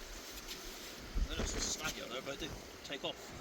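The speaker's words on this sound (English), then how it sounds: "Sorry about the wind, people." Wind buffets the microphone on a stormy shingle beach while sea fishing, a steady broadband roar with gusts, and voices talk over it throughout.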